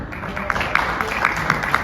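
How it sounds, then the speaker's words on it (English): Scattered applause from a tired audience at a Redmi Note 11 launch event in Oman, a steady patter of hands with a few sharper claps in a large room. "Can we have a round of applause for Mr. Tayyip?"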